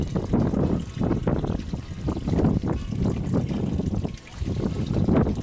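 A hooked fish thrashing at the surface while being reeled in on a fishing trip, repeated close, choppy splashes and water churning in uneven bursts, with no talk over them.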